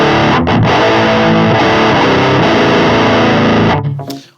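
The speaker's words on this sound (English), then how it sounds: "what I'm gonna do is I'm probably gonna bring back the distortion to give me back some dynamics" Electric guitar played through a Boss Metal Zone distortion pedal with a Fortin Grind, a loud, heavily saturated riff with sustained chugging chords that rings out and fades at the end; no talking.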